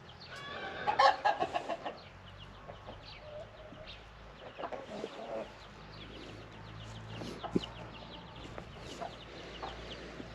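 Chickens cluck and a rooster crows in a hobby poultry coop at Taşköprü, Kastamonu, on a summer-like day. Scattered calls come and go, some close and some farther off, over a faint outdoor background.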